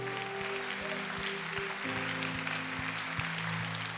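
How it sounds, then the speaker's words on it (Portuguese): A church congregation applauds, a steady wash of clapping heard at moderate distance beneath a sustained organ or keyboard chord and a faint rhythmic thump. "Vamos aplaudir esse Deus tremendo?"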